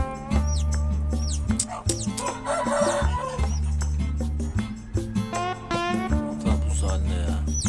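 A broody white hen set in the place of a turkey keeps up steady clucking among other poultry calls, with crowing and busy barnyard fowl sounds layered close by throughout.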